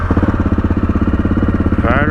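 A Honda XR650L motorcycle engine running with the choke on, close up, with a steady rhythmic thumping throughout; a voice cuts in briefly near the end.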